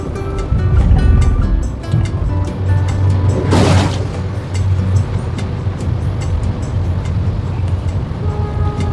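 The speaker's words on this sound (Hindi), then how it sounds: "पानी उड़ाया उस कार ने, और वो भी अंडरपास के अंदर" Car driving through a flooded underpass in Pune, throwing up a loud whooshing burst of spray that swells and fades over a continuous low traffic rumble.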